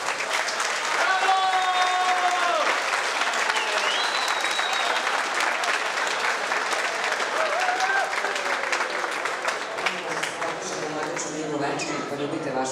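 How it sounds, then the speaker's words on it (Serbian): Wedding guests break into loud, sustained applause and clapping that fills the whole stretch, with voices and celebration sounds mixed in. "Jedan veliki aplauz."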